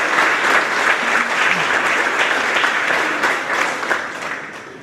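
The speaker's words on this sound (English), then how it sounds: "So give them a round of applause." An audience at a grades 4–6 school awards ceremony applauds with a full, sustained burst of clapping that holds steady before tapering off toward the end, with no one speaking.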